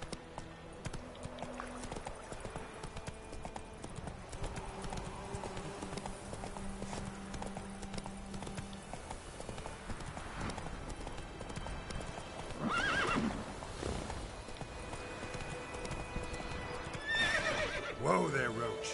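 Roach, a horse in The Witcher 3, trots with steady hoof clip-clops and lets out neighs near the end, at low volume with game ambience behind it. A voice speaks briefly.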